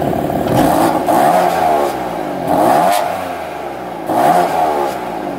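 A 2015 BMW M3 with a manual gearbox and twin-turbo engine revs up loudly three times in a row, each rising roar held briefly before falling back to idle.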